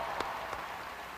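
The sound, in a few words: crowd applauding Morgan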